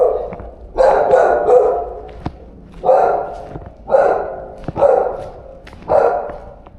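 A dog barks repeatedly on a winter street in Milan, loud and close, with about six rough barks spaced roughly a second apart over faint street background.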